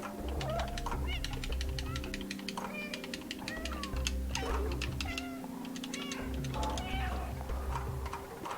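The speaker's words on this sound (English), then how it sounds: "Just listen to that meow." A cat meows repeatedly in the video game Stray, several short mewing calls over a steady game soundscape with low background music, while quick keyboard clicks patter throughout and a voice talks faintly beneath.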